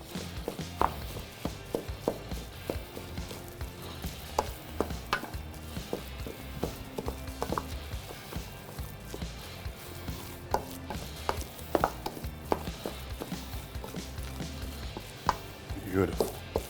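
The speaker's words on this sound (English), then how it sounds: "we're just gonna take a second to mix it up with our nice heavy wood spoon" Hot cooked vegetables mixed with a heavy wooden spoon, a steady run of dull knocks and scrapes against the pot, close and moderately loud.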